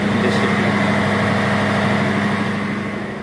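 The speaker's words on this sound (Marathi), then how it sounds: "इकडे इंजिन्स असतात" A steady, loud diesel drone with a strong low hum fills the engine room of a ship or boat off Angola, with continuous machinery rumble and no speech over it.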